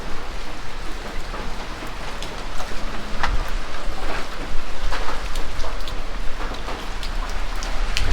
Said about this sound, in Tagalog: Ito, malakas na naman yung ulan.